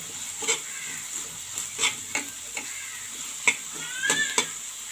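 Curry leaves and onions fry in a pan, a steady gentle sizzle broken by irregular sharp crackles and pops from the oil.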